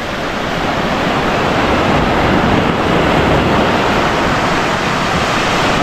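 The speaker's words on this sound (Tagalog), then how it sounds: "Mas malakas yung alon oh." Strong waves roll onto the shore in a continuous loud roar of surf, buffeted by wind noise on the microphone, with no voices over it.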